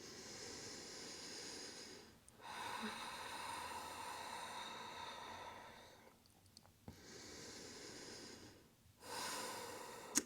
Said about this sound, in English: Slower exhales, longer exhales, in and out through the nose.